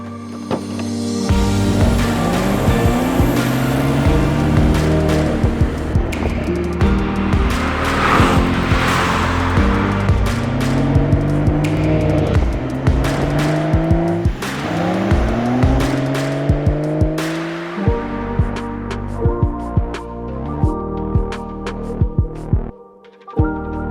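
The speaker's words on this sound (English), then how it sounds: "It's the battle between two iconic engines, the VR30 and the B58." A Toyota Supra with a B58 engine and a Nissan Z with a VR30 engine are driven hard, with loud engine drone repeatedly climbing through the revs between gear shifts and occasional tire squeal, heard close throughout.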